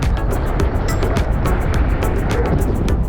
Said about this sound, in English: Massive headwind.